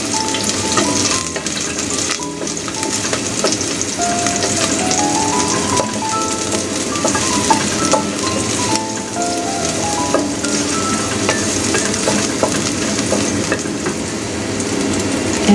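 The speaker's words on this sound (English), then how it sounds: "The garlic, make it golden brown." Garlic frying in a pan until golden brown for a bean curd, winter melon and oyster soup, a steady dense sizzle with crackling throughout, no voices.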